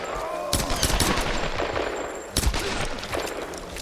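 Gunfire in the video game Tomb Raider (2013) comes as loud, sharp bursts of shots with a couple of heavy impacts, rapid and close, dominating the short stretch with no talking.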